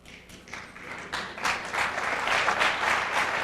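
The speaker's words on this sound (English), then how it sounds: "Knowledgeable crowd, yeah, appreciating Davis's attempt." A crowd watching a nine-ball pool match applauds steadily, the clapping swelling and growing denser over a few seconds, with no voices over it.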